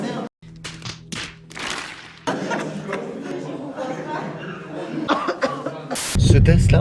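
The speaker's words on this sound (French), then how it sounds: "Ça commence à tousser." A person coughs repeatedly during a Covid test, with several short rough coughs mixed with voices talking, thumps and handling noise close by.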